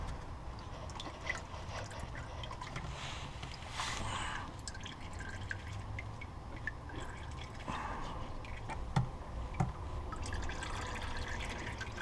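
Oil drains from a Nissan GT-R transmission into a pan, a faint, steady trickle with occasional drips over a quiet workshop background.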